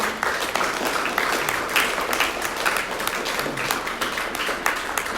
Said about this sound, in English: Let's give a big round of applause for all of these people who have done so much